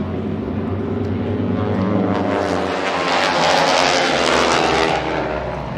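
Propeller airshow airplane at SUN 'n FUN 2021 roaring loudly through a barnstormer loop at about 4 Gs, the engine drone swelling and shifting in pitch as it passes close by.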